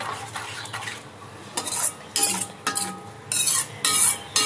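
Spoon stirring thick jackfruit halwa in a metal pan, with repeated scraping strokes and clinks that come in bursts, close and fairly loud, with a faint sizzle between them.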